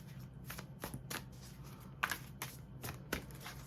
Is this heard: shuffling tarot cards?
yes